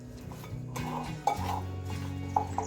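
Spices and oil stirred in a cooking pot for a Sri Lankan eggplant curry, with a steady scraping of a spoon against metal and a few sharp clinks, close and moderately loud with no voices.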